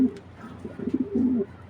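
Soft, repeated cooing from a feisty racing pigeon kept in a cage, a few low rolling coos rising in the second half, close by with no talking.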